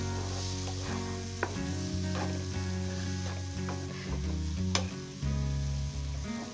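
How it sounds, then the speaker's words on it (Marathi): Semolina being stirred with mango juice in a hot pan for mango sheera, a steady close sizzle with scraping spoon strokes and a few sharper knocks against the pan. "मग असं चांगलं ढवळत राहायचं मस्त."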